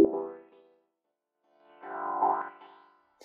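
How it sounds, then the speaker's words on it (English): A synth phrase in FL Studio passes through a high-pass filter, giving two short, thin bursts with the low end stripped away, separated by a second of silence. "this time I'm going to switch the type to high pass, and that's going to make it sound something like this."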